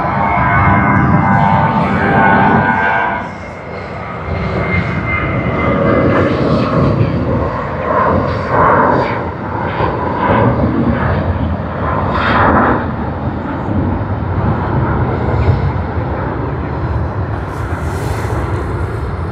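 A Terra Avia aircraft at Sydney Airport, its engines roaring loud and continuous for the whole stretch, rumbling and rising as the plane passes nearby.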